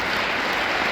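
Dense, steady applause from a seminar audience in Budapest, a continuous wash of many hands clapping with no pauses.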